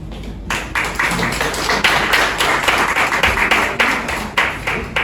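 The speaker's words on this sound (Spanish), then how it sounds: "Un aplauso totalmente merecido" Audience at a Barcelona Bitcoin meetup clapping steadily for about five seconds, a loud, dense round of applause from a room full of people with no talking over it.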